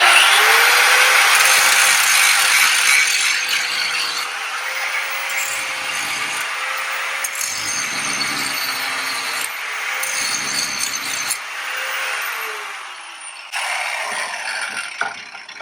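A power tool trims the rounded edge of a part so it will slide past bolt heads during an awning installation: a loud, close grinding whine that falls back into shorter, uneven bursts as the cutting goes on.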